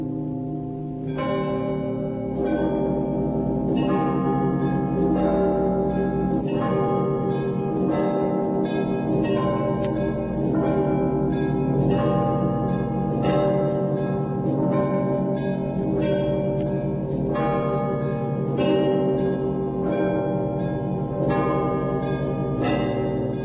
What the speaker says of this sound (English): this is a great little 10-inch record of bells in the Russian churches